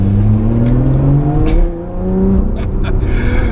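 Lotus Evora 400 engine revving loudly and rising in pitch, with a brief lift-off dip before the revs build again, close and dominant.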